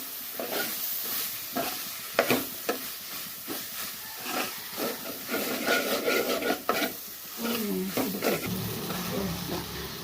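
Ginger garlic paste stirred and frying in a pan for cuttlefish thokku, a steady sizzle broken by repeated scraping stirs, close and moderately loud, with no talk.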